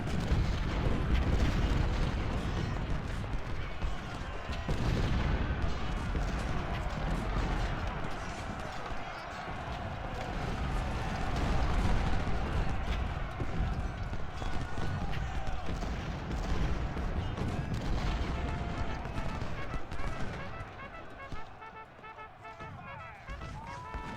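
Artillery fires in a battle in the game Ultimate General: Civil War, a dense, continuous rumble of booms and crackling fire, loud throughout, with game noise underneath.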